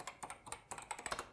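Quick, irregular keystrokes tap out on a BBC Micro computer keyboard, a dozen or so soft clicks in just over a second, quiet and close with no talking.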